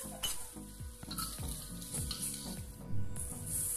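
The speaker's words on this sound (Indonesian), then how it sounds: "masukkan tahu yang sudah digoreng setengah matang tadi" Half-fried tofu is stir-fried with spices in a wok, with loud continuous sizzling and crackling and occasional utensil scrapes. Music plays underneath.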